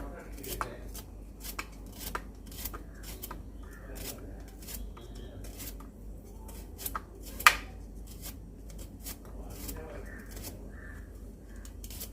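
A knife chops a washed bitter gourd in a home kitchen, giving a run of sharp, irregular taps and cuts over a low steady background hum.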